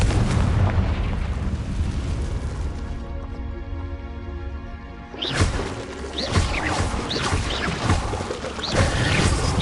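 Fire spell blasts and crackling impacts in the video game Hogwarts Legacy, a loud dense burst at the start, then a quieter droning stretch before several sharp booming explosions return, no speech.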